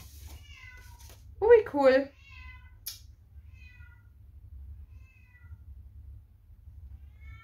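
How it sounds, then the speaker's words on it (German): A male cat meows twice in quick succession, fairly close, with a brief spoken exclamation nearby and low background hum throughout. "Hört ihr meine Katze?"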